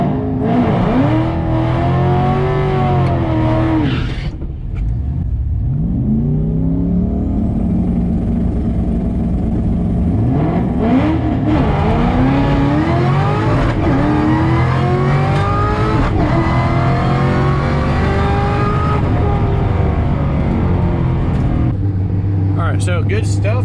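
Ford Mustang GT500 launching and accelerating hard through gears on an eighth-mile drag run, engine rising and dropping with each shift, loud and close, with people talking over it throughout.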